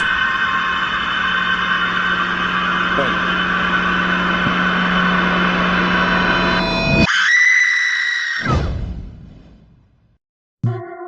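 A woman's long, death-like horror scream, sustained and piercing for several seconds before breaking into a higher shriek and cutting out, followed by a short burst of dramatic sound.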